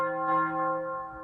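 Church bells sound effect played on an electronic organ, a sustained tolling bell tone with rich overtones, moderately loud and slowly fading.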